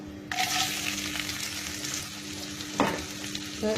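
Sliced onions (savala) dropped into hot oil in a pan with spices while cooking chicken kurma, a loud steady sizzle that flares at the drop and again with stirring, close up with no talk.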